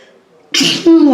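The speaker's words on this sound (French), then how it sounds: "je vais éternuer" A single loud sneeze, a sharp breathy burst followed by a voiced tail, close to the listener.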